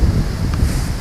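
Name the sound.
wind blowing across the camera microphone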